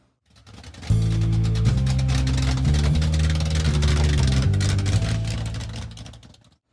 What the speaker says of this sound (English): I got the fans going, so you might hear a little background noise